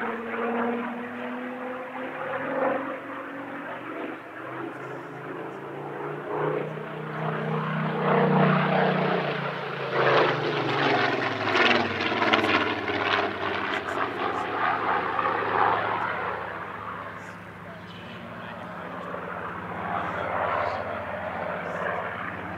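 Supermarine Spitfire, a former photo reconnaissance propeller aircraft, flying a display at the Midlands Air Festival: a piston engine drone that swells as it passes closer, with a shifting pitch sweep, then fades slightly toward the end.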